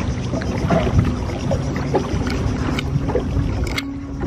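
A boat runs on open water, giving a low steady motor rumble mixed with wind and water noise and occasional knocks, fairly close and continuous.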